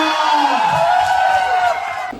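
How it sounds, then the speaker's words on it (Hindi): A crowd at a college fresher party cheers and whoops loudly, a dense, sustained roar of voices that carries through most of the moment before easing slightly at the end. "तालियों के साथ स्वागत कीजिए पुनीत सुपरस्टार का।"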